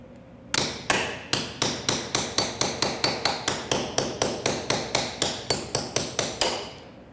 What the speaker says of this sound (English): I got to cut it with a hammer.